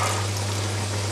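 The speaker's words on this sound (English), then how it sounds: "just add another wee small taste of water to this and let it continue cooking away" Water is poured into a pot of British Indian restaurant-style curry base gravy, a steady, close pouring wash over a constant low hum.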